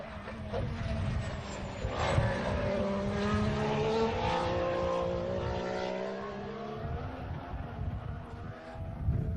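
A Formula 1 car's high-pitched engine screams as it accelerates out of a curve during 2014 Bahrain testing, its rising whine shifting through the revs, heard trackside from some distance with steady loudness.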